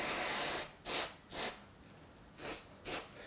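Contact cleaner is sprayed around a screw on Wahl Legend hair clippers in five short, sharp hissing blasts with brief pauses between them, close and clear.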